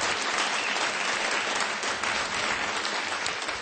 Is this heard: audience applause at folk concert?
yes